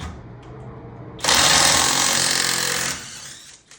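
Alloyman 20V cordless impact driver removing lug nuts from a car wheel: a loud, dense burst of rapid hammering lasting under two seconds, close by and alone, trailing off into quieter handling noise.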